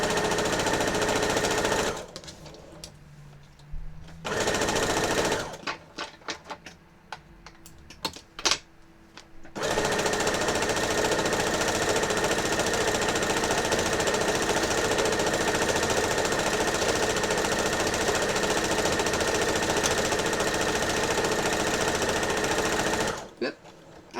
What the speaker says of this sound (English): So let's finish sewing these rows.